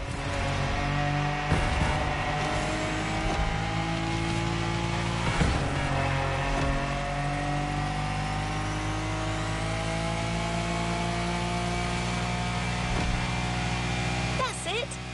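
A Lamborghini in The Crew racing game revs and accelerates under a sustained engine drone, with shifting pitch, occasional bursts and a faint tire squeal, steady and loud throughout.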